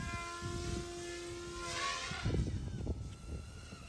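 A 1/32 scale Apache AH-64 RC helicopter flies close by, its small rotor and motor whining steadily, the pitch shifting as it climbs and flips inverted.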